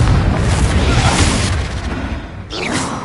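A Confringo fire spell blasts in Hogwarts Legacy, a loud continuous roaring explosion with rumbling low end that drops briefly before a crackling burst trails off near the end.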